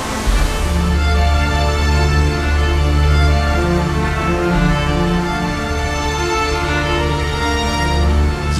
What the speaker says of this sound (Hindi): ये है खूबसूरत मावो वाटरफॉल